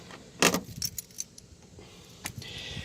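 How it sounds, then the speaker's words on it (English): Keys to a 1993 Chevrolet S10 pickup with a 4.3 engine jangle in a short metallic burst near the start, then softer clinks and a second brief rattle, close by and otherwise quiet. "Here's the keys."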